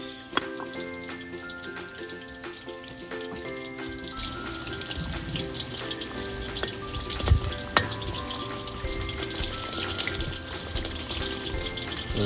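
Chicken wings for honey BBQ sizzle and crackle in a pan during outdoor cooking, with a continuous frying hiss broken by scattered ticks and scrapes as the wings are stirred up close.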